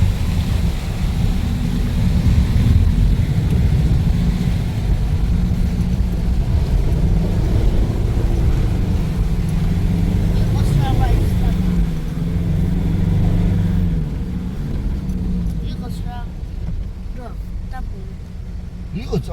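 A Jeep Wrangler drives off-road into water, its engine a steady loud low rumble with wind buffeting the microphone and water churning, while people talk over it.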